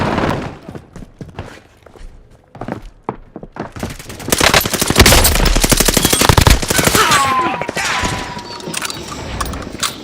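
Gunfire in Warzone: scattered single shots at first, then dense rapid automatic bursts loud and close, with mechanical clicks and a trailing ringing tone as the firing thins out.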